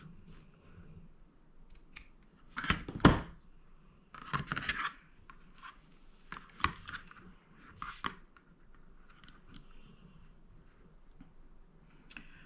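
Fabric cut while piecing a sampler quilt block, a few close crisp snips and rustling handling sounds in scattered bursts over a quiet background.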